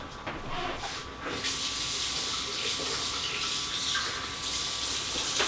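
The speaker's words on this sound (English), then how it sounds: "I'm gonna fill his water dish really fast." Tap water pours steadily into a pet's water dish, a close, continuous rushing hiss that starts a little softer and then holds loud and even.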